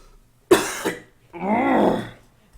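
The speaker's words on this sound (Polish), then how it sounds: "Kurczę, co ja mam taki kaszel." A person coughs sharply and then clears the throat in a long, rough rasp, close to the microphone with no speech.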